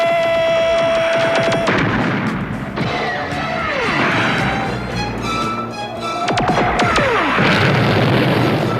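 Artillery barrage in the 1983 G.I. Joe animated mini-series: loud, continuous explosive booms and crashes, with several descending shell whistles falling before impacts, the roar filling the whole stretch without letup.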